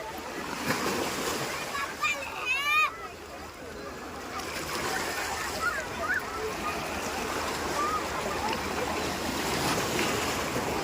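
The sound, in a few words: strong waves crashing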